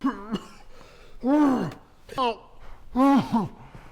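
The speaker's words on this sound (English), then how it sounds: "the nobleman began to cough repeatedly" A nobleman in a brutal action thriller film coughs repeatedly in harsh, throaty bursts, three or four close, loud hacking coughs with strained gasps between them.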